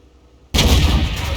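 A tank cannon fires a single shell at an IS heavy tank in the World of Tanks video game, a sudden loud boom after near silence, followed by a sustained rumbling roar that carries on after the blast.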